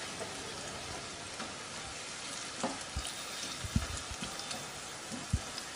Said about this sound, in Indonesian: Ini kita juga goreng tempenya sampai nanti mateng.